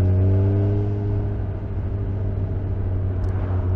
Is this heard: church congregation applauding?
no